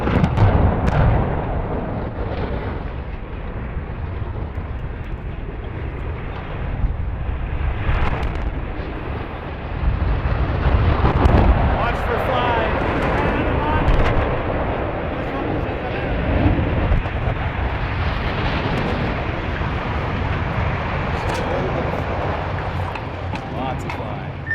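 Twin power station smokestacks come down in a demolition implosion, a long, loud, rumbling roar that swells and sustains for many seconds, with a second surge partway through as the other stack fires, while voices talk over it.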